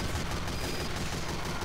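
Rapid, dense gunfire in a Team Fortress 2 match against snipers, a continuous burst of loud shots filling the whole moment.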